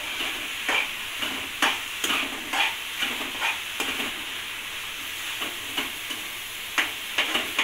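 Ukdiche modak filling stirred in a pan over a low flame, with a steady close sizzle broken by regular scraping strokes of the spoon roughly every half second to second.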